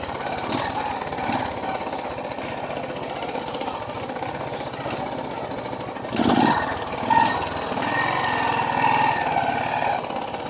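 A 1985 Honda motorcycle engine runs steadily while riding, a loud rough rapid pulsing drone with wind rush, swelling briefly as the throttle opens.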